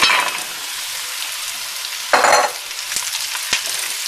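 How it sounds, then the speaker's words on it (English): Cubed butternut squash sizzles as it hits a hot pan of sautéing onions, garlic and sage, a steady close frying hiss with a louder burst when it lands and a few sharp clicks and stirs. "now I'm going to add my butternut squash."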